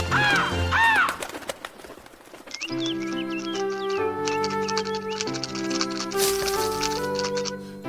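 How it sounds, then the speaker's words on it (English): A feisty bird in an animated fantasy series gives a couple of harsh, rising caws at the start, then falls silent as steady orchestral music takes over. "And that bird is feisty."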